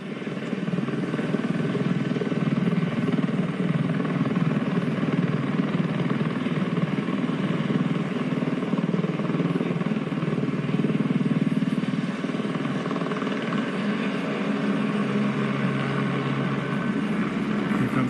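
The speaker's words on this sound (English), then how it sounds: "Oh, he's hovering again." A helicopter hovers overhead during a police DUI checkpoint, its loud, continuous rotor thrum and engine drone steady for the whole stretch with no voices.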